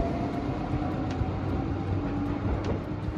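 A Nankai Main Line train passes near Nishi-Tengachaya in Osaka's Nishinari ward, a steady broadband rumble of wheels and carriages with faint rail clicks, continuous and fairly close for the whole stretch.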